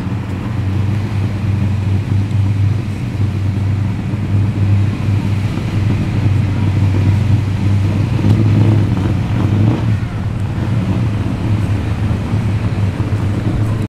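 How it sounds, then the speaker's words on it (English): A McLaren sports car passes at a car meet at Villawood, Sydney, its engine a loud, steady droning rumble that holds for the whole stretch with no talk over it. "There goes a McLaren."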